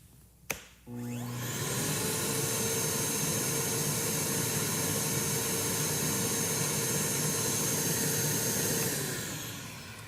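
A quiet dust extractor in a woodworking shop switches on with a click and runs as a steady, fairly quiet whooshing hum for several seconds before winding down.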